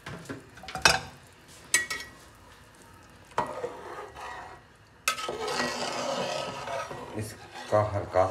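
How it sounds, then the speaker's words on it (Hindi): A spoon stirs soaked rice in a pot for chicken Kabuli pulao, giving intermittent scraping clinks and soft sizzling, with a louder, steadier stirring and frying stretch toward the end. "इसका हल्का सा चम्मच हिलाएंगे।"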